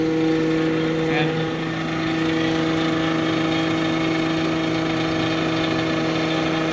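A switched reluctance motor drive runs steadily at 1600 RPM under increased load, giving a continuous electrical whine with strong tonal hum lines throughout, close and constant, with no pauses.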